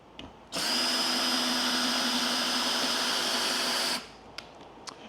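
A DeWALT DCD771 20V cordless drill driver whirs at a steady high pitch for about three and a half seconds, driving a screw into dry pressure-treated wood, then cuts off; a few faint clicks follow in a quiet room.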